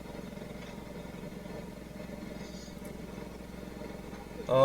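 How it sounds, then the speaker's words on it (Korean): A small self-propelled farm harvesting machine lifting potatoes in a Japanese field runs with a steady, low engine drone throughout, with people talking over it. "이건 트랙터가 아니라 자주형 그 농기계인데"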